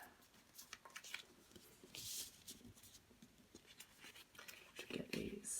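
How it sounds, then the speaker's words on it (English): Paper being folded into simple origami shapes, with soft crinkles, creases and brushing scrapes coming in short irregular bursts, close and quiet, alongside soft speech. "Have to fold the corners"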